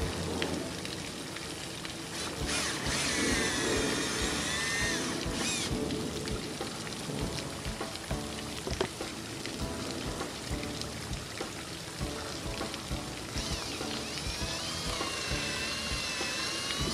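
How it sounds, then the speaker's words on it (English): A drill bores about two inches into a tree trunk during a tree pest-control injection treatment, a high whining buzz running fairly steadily with brief interruptions, close and without talking. "the drill is different. This is going around 2 inches in the tree."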